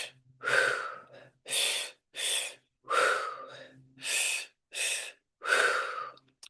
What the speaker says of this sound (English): Breathe into the belly and then breathe into the chest.